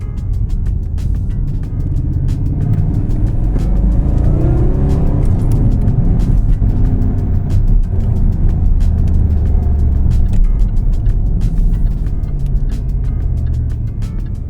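A tuned Jaguar car held in second gear accelerates with a steady, loud engine roar that builds and sustains throughout, with no speech over it.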